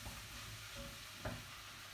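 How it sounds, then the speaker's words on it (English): Spices and vegetables fry in a pot for a Moroccan stew, giving a steady low sizzle throughout with a brief stirring scrape near the middle. "I'm just going to give that a minute to get those spices frying and to coat all of the vegetables"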